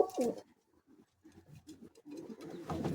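A Madrasi pigeon at a loft in Bauria, Howrah coos in soft, low repeated murmurs close by, with a brief rustle at the start.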